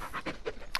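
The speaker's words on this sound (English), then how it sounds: "Let's go and pet this dog here." A dog in the Blair Witch video game pants in a quick run of short breathy huffs, close and fairly quiet, with no talking.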